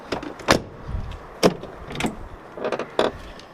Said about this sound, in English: Now I'm just going to close the door and open the door a few times to prime it.